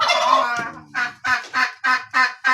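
Turkeys call from their pen in a run of about six loud, close gobbling bursts, the first drawn out and the rest short and evenly spaced, with no talking.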